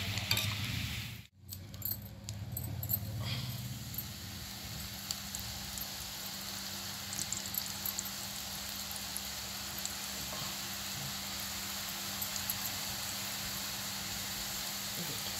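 Holi snack frying in a pan over a low gas flame, a steady soft sizzle with faint crackles running throughout, briefly interrupted near the start.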